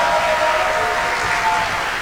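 An audience at a Dancing with our Stars 2024 event applauding dancers, with steady, fairly loud clapping from a crowd in a room, continuing without a break.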